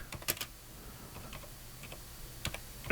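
Computer keyboard typing in short bursts of close, crisp key clicks with quiet gaps between them, used to enter a prompt for an AI image-retouching tool.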